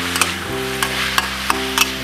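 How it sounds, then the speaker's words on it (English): Pork stir-fry with oyster sauce sizzles in a pan while a utensil stirs it, with a handful of quick scraping clacks over the constant frying hiss and no talk. "and then stir it"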